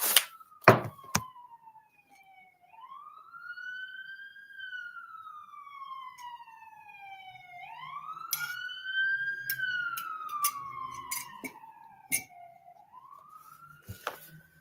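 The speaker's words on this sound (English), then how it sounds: "other than the sound, when the sirens come by" A police siren wails in long rising and falling sweeps as it passes, joined by sharp knocks and clatter nearby.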